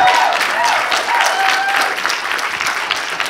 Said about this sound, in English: that's an applause for you for setting up this amazing conference